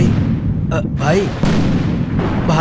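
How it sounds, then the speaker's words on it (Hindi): Firecrackers burst at a festive celebration in a series of sharp, loud cracks and booms, with several close blasts spaced across a couple of seconds over a dense rumbling background. "भाई लगता है वो जीत गया, धूमधाम से पटाखे फोड़ रहा है।"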